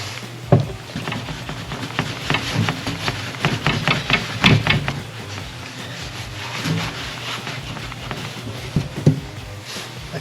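Scrubbing old window tint glue off a car window, with irregular rubbing strokes and sharp taps close by, continuous for about ten seconds with no talking.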